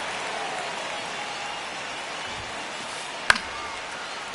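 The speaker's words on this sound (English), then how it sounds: "Crowd locked in right now." Steady broadband crowd murmur fills a ballpark in MLB The Show 25 during a tense ninth inning, a constant wash with one sharp crack near the end, no voices on top.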